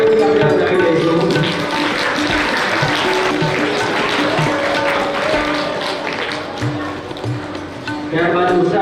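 An audience at a farewell ceremony for the principal of Dr. J. B. Desai Primary School in Alina claps together to welcome a guest, producing a dense, steady wash of applause that lasts several seconds and swells again at the end.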